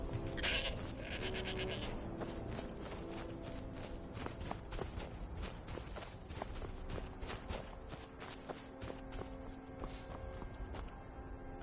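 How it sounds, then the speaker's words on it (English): A goat bleats in Skyrim Special Edition while footsteps and hooves clip-clop along, the bleats short and mid-distance over a steady ambient game soundscape. "Is the goat still following?"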